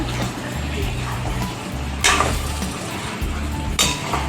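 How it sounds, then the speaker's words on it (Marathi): Spoon or ladle clinks against a pot while chicken dum biryani ingredients are stirred together, two sharp metallic knocks standing out over a soft continuous scraping and rustle. "तर मस्त आता आपण एकत्र करून घेऊ सगळं जिन्नस"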